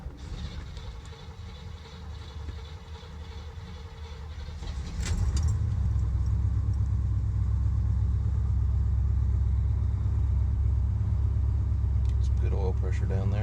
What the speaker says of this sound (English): so this is a cold start